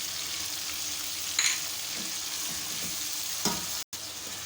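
Beef pieces fry in oil with garlic-ginger paste for shahi biryani, a steady close hiss and sizzle with occasional stirring scrapes and brief clatters.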